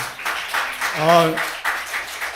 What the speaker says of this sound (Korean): 박수 치니까